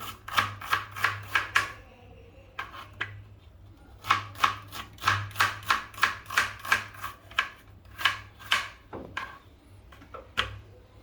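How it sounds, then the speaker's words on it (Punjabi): A knife chops onions on a board while preparing chicken masala: close, crisp strokes in quick rhythmic bursts separated by short pauses, with no one speaking. "ਹੁਣ ਅਸੀਂ ਪਿਆਜ਼ ਕੱਟਾਂਗੇ"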